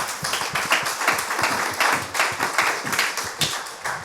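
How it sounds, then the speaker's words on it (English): A conference audience applauding after a live fintech panel talk, steady dense clapping throughout, moderately loud with no voices on top. "So round of applause for Jason."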